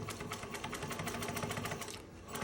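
Sewing machine stitching quilted suede, a rapid, even mechanical chatter of needle strokes running continuously at close range.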